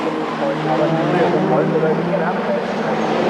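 Touring cars, a BMW among them, race toward Lodge corner at a 1990 British Touring Car Championship round, their engines a continuous droning roar under a commentator's talk.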